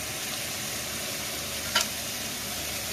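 Beef roast sizzling steadily in a pot after water is added, a continuous bubbling hiss with one brief sharper spatter partway through, no talking.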